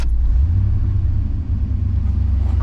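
1983 Pontiac Trans Am engine running after a throttle body adjustment, a steady low rumble at idle with a slight rise, continuous and close, no talk.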